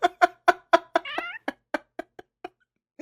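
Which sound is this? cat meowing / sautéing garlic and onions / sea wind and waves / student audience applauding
cat meowing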